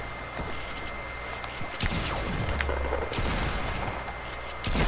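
Gunfire in the Fortnite video game: several bursts of rapid shots with sharp cracks, loud and close, coming in clusters with brief gaps between them.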